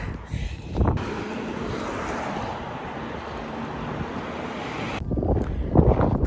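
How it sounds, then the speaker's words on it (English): Wind buffets a phone microphone in a steady low roar during a walk after a run, with brief bumps and a few faint spoken words near the start and end. "Sorry if it's windy"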